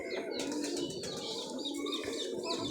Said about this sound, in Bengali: অনেক জাতির কবুতর আছে এখানে।